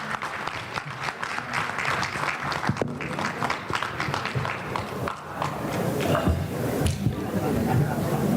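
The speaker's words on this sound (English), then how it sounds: "Let's give a big hand of applause to them." An audience at a community federation unity dinner and conference applauds its panelists, moderate clapping with murmured chatter and shuffling, swelling again near the end.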